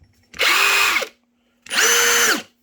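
An impact-rated driver runs in two separate bursts of about a second each, with a loud high whine and a pitch that rises at the start and falls at the end, and a short silence in between.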